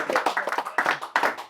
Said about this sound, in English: I would like to give him all a round of applause,